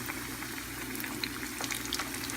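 Jamaican dumplings frying in a pan, browning fast, give a steady, close oil sizzle with faint crackles and small pops scattered over a constant bubbling hiss.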